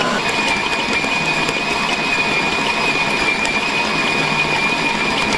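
An electric stand mixer with a dough hook kneads potato bread dough, giving a steady, continuous motor whir with a high whine, close and unbroken, with no talking.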